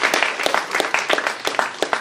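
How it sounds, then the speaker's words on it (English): Students at a book reading session with an author clap together in a fairly quiet, loose round of sharp individual claps, steady throughout. "Can you just clap a little loudly"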